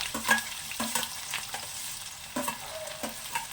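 Onions sizzle gently in oil, with repeated scraping stirs of a spatula against the pan, fairly quiet and close.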